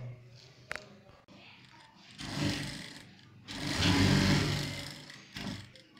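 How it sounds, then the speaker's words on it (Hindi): An electric sewing machine stitches a gents' pant belt in bursts, two longer whirring runs with short pauses between, near and moderately loud, with faint handling noise between runs. "और यहाँ अब आपको सिलाई करनी है।"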